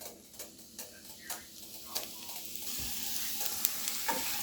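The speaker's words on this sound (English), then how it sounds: "And then in with our onions." Onions frying in a little olive oil in a pan for chili, a soft, quiet sizzle with occasional light taps and stirring clicks, close and faint, with no talking.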